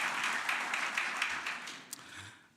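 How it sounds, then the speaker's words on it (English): Audience applause for graduates at a graduation ceremony in Johannesburg, South Africa: soft, steady, distant clapping from a crowd that fades toward the end. "Can we also clap our hands for them as well?"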